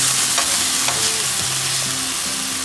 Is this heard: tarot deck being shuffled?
no